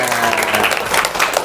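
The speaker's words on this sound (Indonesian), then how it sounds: "Tepuk tangan untuk semuanya." A classroom audience claps throughout, a dense, loud, continuous burst of applause.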